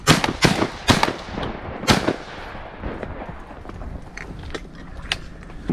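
Shotgun blasts ring out on a windy duck hunt: four loud, sharp reports come in quick succession in the first two seconds, then fade into softer crackles and open-air background with no talking.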